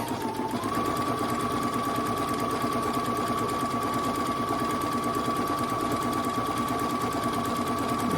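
A sewing machine stitches a pillowcase in a steady, continuous run, a close loud mechanical whirr with a fast even rhythm and a constant high whine throughout.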